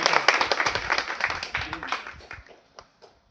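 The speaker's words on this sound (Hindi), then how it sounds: "सभी लोग जोरदार तालियों से स्वागत और उनका सम्मान करें।" Audience at a gathering honoring a religious figure and guests applauds, a short burst of scattered clapping that fades out over a few seconds, fairly faint.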